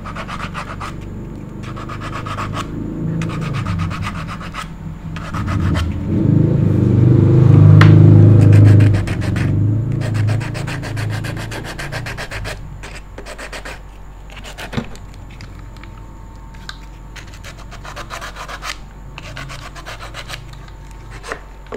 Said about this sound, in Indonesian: Oke, amplas 80 dulu.